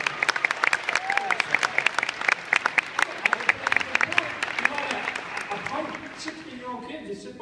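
An audience applauds at a talk between two speakers about fan appreciation. Dense, sustained clapping runs for several seconds, then tapers off, with voices murmuring underneath.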